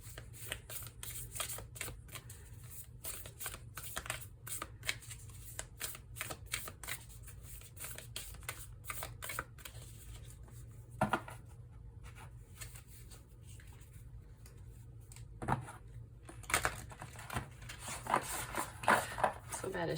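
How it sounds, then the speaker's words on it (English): A deck of tarot-style cards being shuffled by hand, a long run of soft riffling and flicking strokes close up, repeated steadily with a few sharper slaps, while someone talks quietly over it. "So bad at shuffling sometimes."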